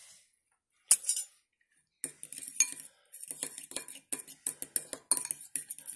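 A utensil scrapes and clinks against a bowl while remoulade sauce is mixed, with a single sharp clink followed by a pause, then a steady run of close, irregular stirring taps and scrapes.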